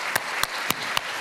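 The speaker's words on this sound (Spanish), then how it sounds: "El aplauso para ellos." An audience at a public forum dialogue claps in a steady, evenly spaced rhythm: five crisp, loud beats over a low crowd murmur.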